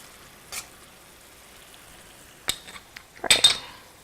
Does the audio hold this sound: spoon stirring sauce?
yes